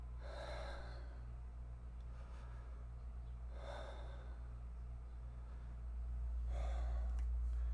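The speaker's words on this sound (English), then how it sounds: "we'll close the meditation by taking 3 deep breaths again." Three slow, deep breaths close to the microphone close out a meditation, each an audible airy inhale and exhale spaced a few seconds apart against a quiet, low background hum.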